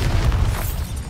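Bombarda blasting spell from Hogwarts Legacy going off as a deep, rumbling boom with a broad crackling burst that stays loud and dense for about a second.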